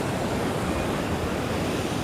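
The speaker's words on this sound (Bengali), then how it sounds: "জল কত উত্তাল দেখুন" Rough sea surf crashing at Kovalam Beach in Kerala, a continuous loud broadband roar of breaking waves with some wind buffeting the microphone, no voices.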